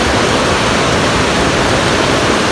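Fast-flowing river water swollen by flooding near a village: a loud, steady, broadband roar and rush, close and unbroken, with no voices.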